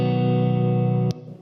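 A clean chord strummed on a Gibson Les Paul's neck pickup through a Mesa Boogie Mark V amp, ringing warm and sustained for about a second before being cut off with a brief pick or mute noise.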